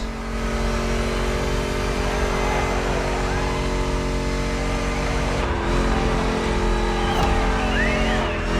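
Several car engines in The Crew Motorfest run steadily and loudly throughout, with a dense, sustained drone and a few brief pitch sweeps near the end, while a voice speaks over the top.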